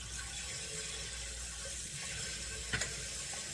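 Water runs steadily from a tap as a container is rinsed during melt-and-pour soap making, a constant rushing hiss with a brief clunk near the end.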